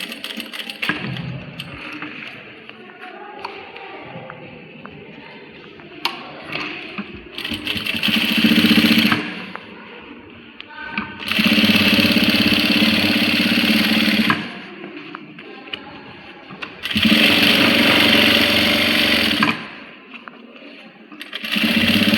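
A sewing machine stitches along the edge of a shirt collar in several bursts of loud, steady mechanical whirring, separated by quieter pauses as the fabric is repositioned.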